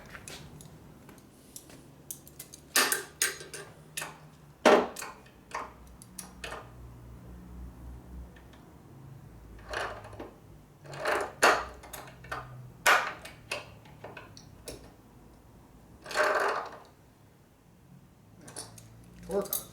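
Channel-lock pliers work the steering stem nut on a 1958 Harley-Davidson panhead 74ci being rebuilt, with a series of sharp metallic clicks and ticks spaced irregularly under intermittent low talking.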